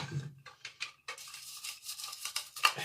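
A toothbrush scrubs metal range hood parts in quick, irregular bristly strokes, close up, with brief pauses and a small clink near the end.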